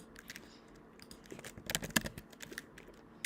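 Keys clack on a computer keyboard in irregular quick bursts, close and crisp, with the typing growing busier in the second half and no voices over it.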